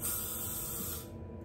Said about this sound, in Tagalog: Yan ang magandang spray net.